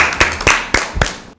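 A few sharp handclaps for team A at a Bible quiz, four or five distinct close claps in a loose rhythm before cutting off to silence.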